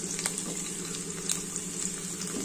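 Garlic cloves roast in oil in a pan, giving a steady close hiss and sizzle with faint crackles and occasional stirring taps, alone without talk.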